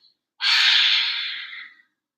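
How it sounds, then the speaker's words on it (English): One long, breathy exhale through the mouth during a morning yoga flow, close and clear, rising sharply and fading over about a second and a half in otherwise silent surroundings. "Breathing in, exhaling out."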